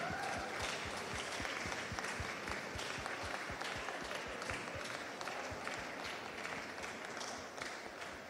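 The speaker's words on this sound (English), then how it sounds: "A warm round of applause, please." A large audience at a South African youth event gives a sustained, dense round of applause to welcome the Deputy President on stage, with steady loud clapping throughout and faint crowd murmur beneath.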